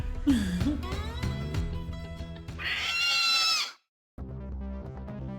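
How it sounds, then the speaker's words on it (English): A large cat-squirrel creature in Xenoblade Chronicles X lets out a loud, close, warbling call, with a bright sustained cry near the end before a brief silence and background game music. "That is a big cat squirrel."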